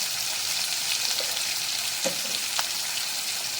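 Ground green chilli, turmeric and cumin paste fry for a fish curry in a pan, a continuous close sizzling hiss with a couple of faint scrapes from stirring, no voices.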